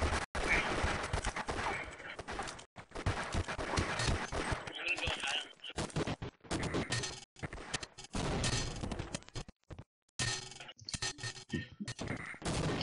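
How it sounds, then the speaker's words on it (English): Multiplayer gunfire in the video game Half-Life: Opposing Force: dense, almost continuous bursts and volleys of shots, loud and close, with a player talking over them throughout. "Did you see the people I'm shooting?"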